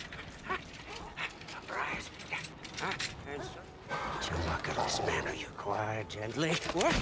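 A dog whimpers and yips in the Mad Max video game, with mechanical game sounds and a voice speaking over it.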